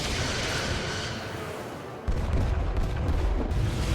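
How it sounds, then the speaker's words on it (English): A starship firing torpedoes in the Star Trek: Resurgence video game, a dense roaring whoosh that drops off and then gives way to a heavy rumbling boom. "Firing torpedoes."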